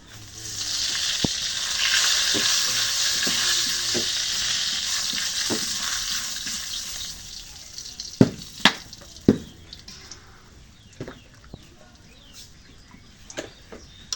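Cumin seeds and bay leaves hit hot oil in a home kitchen, crackling with a bright, loud sizzle for several seconds. The hiss then settles while sharp clicks and scrapes of stirring follow.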